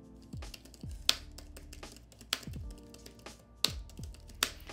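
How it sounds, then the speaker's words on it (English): A Galaxy Tab S8 keyboard case clacks under steady typing, a close, quiet stream of crisp clicky keystrokes with several louder sharp taps mixed in, and no voices. "with much more clicky keys, which I like. Let's do a little sound test."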